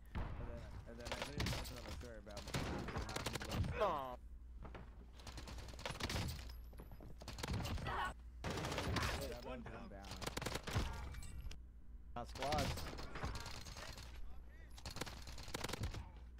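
Rapid bursts of gunfire from a first-person shooter game, repeated volleys in clusters with short gaps, mixed with mechanical clicks and a voice talking over the action.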